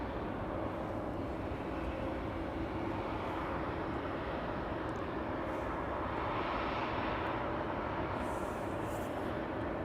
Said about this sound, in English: Right, Croatia Airlines Flight 451 to Zagreb. A319, 13 years old